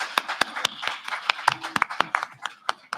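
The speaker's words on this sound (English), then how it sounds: "Let's clap for our panelists." A small audience claps for the panelists at a women's economic empowerment forum, producing scattered, irregular sharp claps that come close together for about three seconds.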